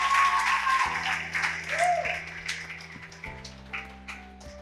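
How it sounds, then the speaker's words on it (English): Audience applause and hand clapping welcoming Edward and Annet Barlow at a coaching event, a steady wash of claps under a steady electrical hum, with brief voice-like tones partway through. "make all the necessary hand clapping and a round of applause as we welcome the Ballows"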